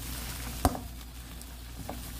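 Anchovies stir-fried with mayonnaise in a pan give a low, steady sizzle, with one sharp clack of a utensil against the pan near the start and a few soft stirring scrapes.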